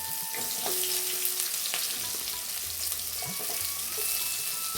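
Onions sauté in oil for an egg curry, a steady close frying sizzle with light scraping stirs and a few faint clinks. A low hum runs in the background, and no one speaks.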